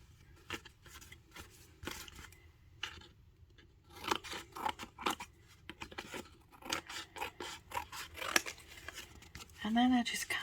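Scissors snip through a paper greeting card in short irregular cuts and scraping strokes, close and quiet, with a person talking in between the cuts.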